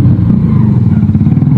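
A Honda CG125 motorcycle engine runs steadily close by with a low, continuous rumble and slight pulsing as the bike is moved and parked; there is no talk over it.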